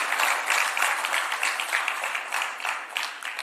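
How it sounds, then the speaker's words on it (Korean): Applause from an audience of lawmakers and party members at a political party's National Assembly members' workshop in Korea, a dense, steady wash of many hands clapping that stays fairly loud and even throughout. "박수 많이 쳐, 많이 쳐야 됩니다"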